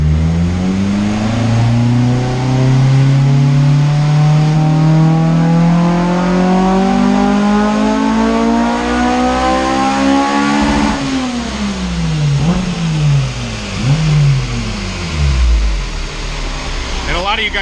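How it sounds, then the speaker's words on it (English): Honda K20A2-swapped EP3 car engine on a dyno, a loud, close, steady rising rev pull that climbs for about ten seconds, then drops and stutters through several bogging dips. "So we're gonna load up the dyno here. Watch a car bog."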